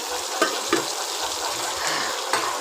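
Hilsa fish fries in oil in a wok, giving a steady, dense sizzle with a few short knocks from stirring scattered through it.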